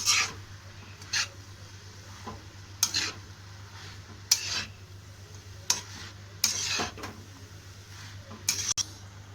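Capsicum being stir-fried in a pan for restaurant-style chicken fried rice, with a spatula scraping and tossing in sharp strokes roughly every second over a faint steady hum.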